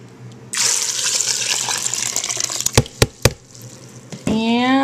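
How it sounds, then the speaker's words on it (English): Water is poured into a pot of cherries, starting as a sudden splashing gush that runs for a few seconds, then a few sharp knocks and a voice at the end. "dump the water on the cherries"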